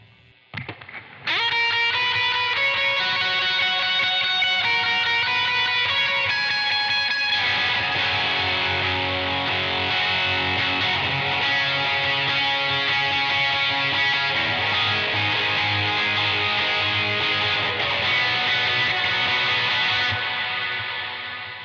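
A sustained electric guitar plays continuously through Strymon Timeline delay and BigSky reverb pedals, its notes washed in echoing repeats and a long reverberant tail, loud and steady throughout.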